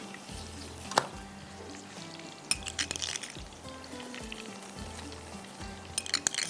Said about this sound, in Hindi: चले जी, तड़का जा रहा है इसके ऊपर।